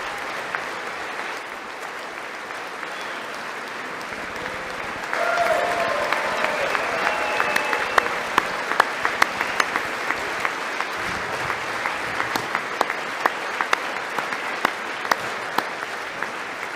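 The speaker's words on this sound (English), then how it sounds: "The sound of Trump's clapping." Audience applause at a Trump event rolls on steadily, a loud, dense crowd clapping that swells after a few seconds and continues with sharp individual claps standing out near the front.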